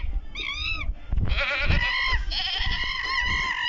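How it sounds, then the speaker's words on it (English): A ram goat bleats in a game's animal marketplace, several loud wavering cries one after another over a dense, noisy background. "Ram goat."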